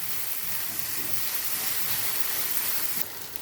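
Garlic, tomatoes and fava beans sauté in a hot pan with a dense, steady hiss and sizzle that shifts slightly near the end.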